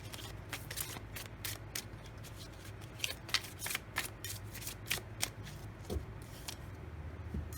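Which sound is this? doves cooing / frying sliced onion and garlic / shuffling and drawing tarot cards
shuffling and drawing tarot cards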